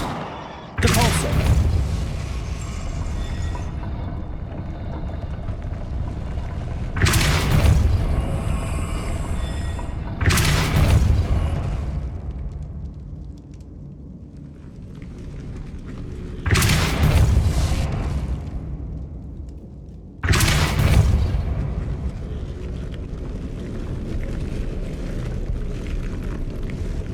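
Depulso force spell cast repeatedly in Hogwarts Legacy, four or five loud booming blasts spaced a few seconds apart over a steady rumbling game background.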